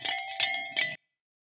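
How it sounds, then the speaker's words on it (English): Bells rung as a sound effect, three quick metallic clangs in succession, bright and ringing, then stopping abruptly into silence. "big bells for you"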